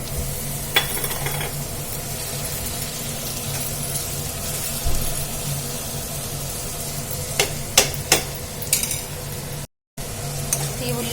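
Tomato pieces frying in oil in a pan for street-style pav bhaji, a steady sizzle running throughout with occasional clinks and scrapes of a spoon stirring against the pan, close and continuous, with no talking.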